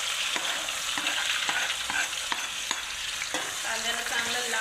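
Onions sizzling in hot oil with cumin and mustard seeds for a home mixed-vegetable dish, a steady dense hiss broken by repeated sharp taps of a spoon stirring the pan, close and alone.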